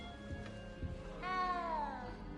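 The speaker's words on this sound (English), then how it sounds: "cat underneath the sofa?" A cat hiding under a sofa in a video game gives a faint, short meow that rises and then falls, heard alone over a quiet background.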